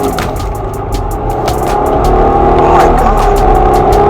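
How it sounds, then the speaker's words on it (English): A malfunctioning car engine runs loud and close, a rough, steady rumble that builds slightly halfway through, with rapid rhythmic ticking riding on top and no talk. "Sorry, my car is acting up."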